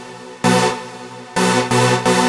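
An EDM anthem synth: loud, bright, sustained supersaw-like chords with a long first chord and then three rhythmic stabs, dense and full, with no voices.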